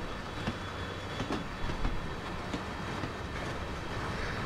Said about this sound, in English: grab a hold of the train as it comes by